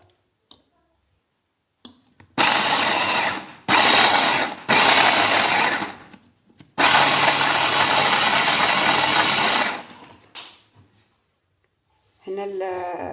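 A food processor grinds peanuts into peanut butter in several loud, sustained motor bursts separated by short pauses, and a voice speaks at the end.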